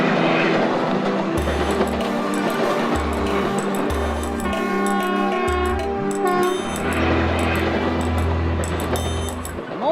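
A train bound for Bikaner in Rajasthan sounds its horn in several loud, drawn-out blasts over a continuous clattering rumble of wheels on rails, close and unbroken by speech.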